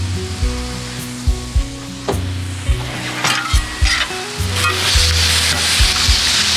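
Steak chunks sizzle on a hot griddle while a spatula repeatedly scrapes and stirs them, sharp metallic strokes over a steady hiss that grows louder and brighter toward the end.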